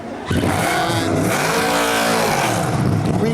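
A race car engine at the Hankook 24H Dubai 2018 catches and runs, a loud, steady, buzzing roar with rising and falling harmonics as it revs, close by and alone.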